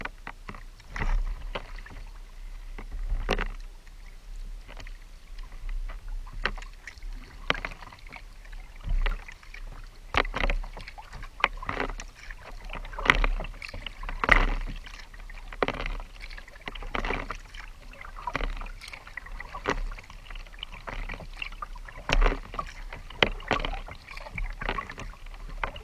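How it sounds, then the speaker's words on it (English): Paddles dip steadily in a canoe or kayak on Ullswater lake while another boat is towed on a line. The strokes come as a regular stream of close splashes and drips, with light wind noise. "You must be paddling."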